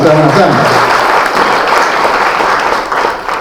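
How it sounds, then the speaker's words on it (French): Guests at a civil wedding break into applause, a dense burst of clapping that stays strong and gradually eases, with a voice speaking briefly at the start. "On acclame."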